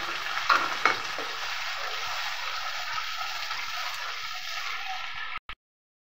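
Sour yogurt added to a chicken kofta mixture in a hot pan, a steady loud sizzle and frying hiss with a couple of stirring clatters early on, cutting off abruptly near the end.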